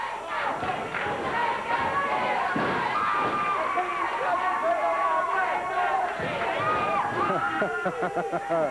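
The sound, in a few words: wrestling crowd chanting "let's go, Jeff"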